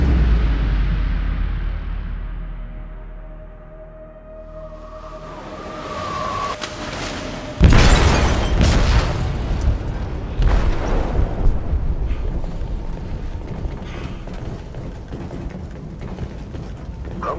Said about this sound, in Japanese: 貨物室で爆弾が爆発しました。